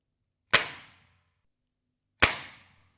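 Hatsan Airtac air rifle, new out of the box, fires two sharp cracks about a second and a half apart, each with a short ringing tail, loud and close with no talk.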